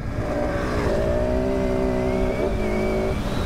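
A 2019 KTM 690 Enduro R motorcycle running off-road with traction control on, its engine holding a steady droning tone with a slight rise as the rear wheel churns, loud and continuous with no talking.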